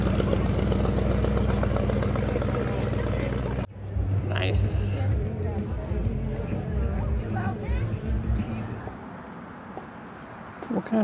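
A deep old truck engine rumbles and idles nearby at an outdoor car show under chatter, then fades into the background as voices and street noise continue.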